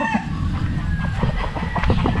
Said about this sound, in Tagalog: Yan, dami nilang manok dito.